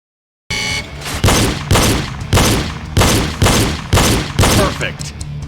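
Sharp, loud pistol shots fired one at a time in an evenly spaced series of about seven during a reload shooting drill, each crack followed by a short decay, close by.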